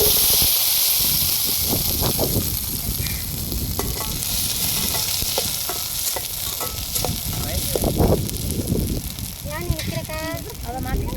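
Oil sizzles and hisses loudly in a pan as shallots and garlic are stirred, with scraping and a voice speaking over the frying.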